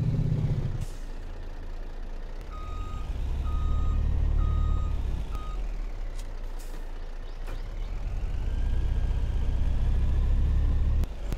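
Heavy truck rumbling close by as its reversing alarm sounds a short run of evenly spaced beeps, the engine swelling and easing, with a brief hiss of air brakes.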